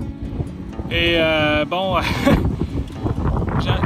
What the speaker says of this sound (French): Vous allez m'entendre avec tout le vent qu'il y a